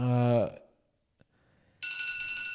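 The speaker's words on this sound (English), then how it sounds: "That was my alarm to remind me to do my team." A phone alarm rings loudly in a short burst, cuts off, then resumes as a bright sustained electronic ringtone after a pause, close to the microphone.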